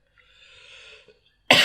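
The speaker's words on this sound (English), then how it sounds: "That was a cough." A single sharp cough bursts out at the end, loud and close, following a soft, murmured sung phrase.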